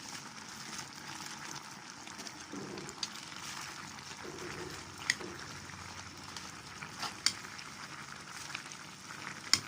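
Pechay (bok choy) stir-frying in a pan with pork pata, a steady close sizzle with occasional clicks and stirring knocks, no talking.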